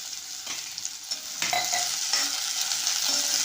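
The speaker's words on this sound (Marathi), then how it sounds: "इथे एक मोठा चमच्याभर मी तेलामध्ये ही भेंडी एक मिनिटभर फक्त परतून घेतली" Okra sautés in oil in a pan with a steady, soft sizzle and the occasional scrape of a stirring spoon, fairly quiet and with no talking.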